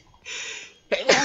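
A single sharp sneeze bursts out near the end, loud and close, preceded by a brief breathy inhale over faint background tone.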